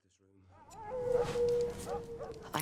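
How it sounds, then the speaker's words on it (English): Wolf-like howling rises in a long sustained tone in a Game of Thrones episode, moderately loud under people talking over it, with other noise around. "I also love that howling."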